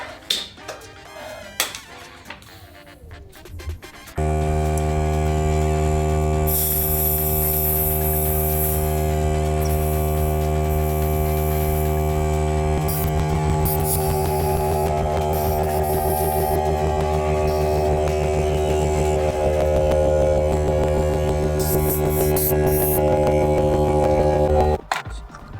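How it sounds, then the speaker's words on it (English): A loud air compressor runs steadily for about twenty seconds with a strong droning hum, used to seat a tubeless bike tyre, starting abruptly after a few seconds of quieter handling noises and stopping near the end. "We're gonna use the air compressor."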